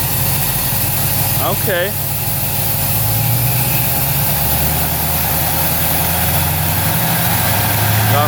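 Supercharged Corvette engine running on a dyno, a loud, close steady drone with a supercharger whine rising and falling slightly; a voice speaks briefly early on.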